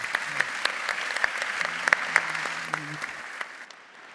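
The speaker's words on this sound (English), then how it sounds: "they should give them a round of applause" Audience applause for a panel of speakers at the close of a debate on EU research and innovation programmes, a dense, steady round of clapping filling the room with a faint voice underneath, fading out near the end.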